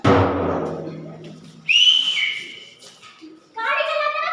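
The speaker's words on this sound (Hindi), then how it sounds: "गाड़ी चलाते वक्त लड़की को देख के सीटी बजाते हो" A person whistles at a girl during a street-play scene, with two short, sharp whistles, one rising and one wavering, following a burst of close talking.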